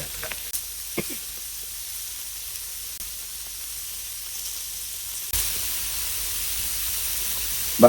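Thin chicken slices grilling in a pan with a little oil, a soft steady sizzle that grows louder and brighter partway through, with a couple of faint clicks and no talking.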